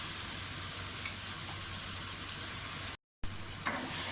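Carrots and potatoes frying in a pan give a steady, even sizzle that holds throughout, with a brief dropout and a couple of faint clinks near the end.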